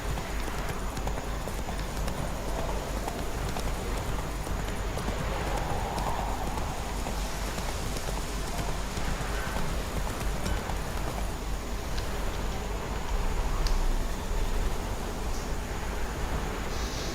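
Roach the horse gallops in The Witcher 3, a steady clip-clop of hooves running continuously under a rustling outdoor game ambience, with no talk over it.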